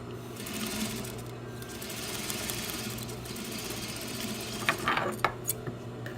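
A sewing machine zigzag stitching a lapped sleeve placket seam, running in a steady fast whirring rhythm. Near the end come a few sharper mechanical clicks and taps.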